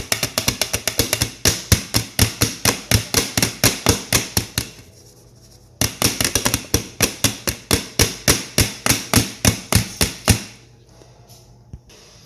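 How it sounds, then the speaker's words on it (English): A cheesecake pan is tapped repeatedly against a surface to release air bubbles. The sharp, close knocks come in two quick rhythmic bursts of about twenty taps each, with short quiet gaps after each burst. "So I'm just going to just tap it a little bit and get some of that air out."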